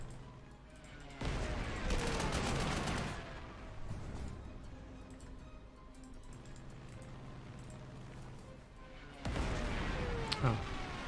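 Bombing attack in the Panzer Corps 2 wargame, set in the Spanish Civil War around Madrid: two loud bursts of explosive rumble and crackle, a long one early and another near the end, over continuous low battle noise with no talk.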